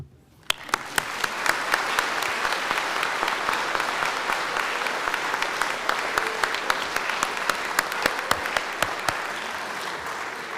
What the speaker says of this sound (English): I want to invite you now to offer these folks a hand of applause.